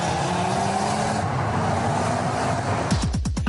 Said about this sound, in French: cette Ford Focus RS se révèle absolument redoutable, une vraie voiture de sport assumée par un constructeur